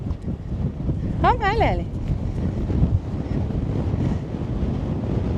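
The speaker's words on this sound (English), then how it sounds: "Wow, that wind." Strong wind buffeting the microphone beside a lake in Switzerland, a continuous low roar with gusty swells, a dog's whine or bark briefly rising over it near the start.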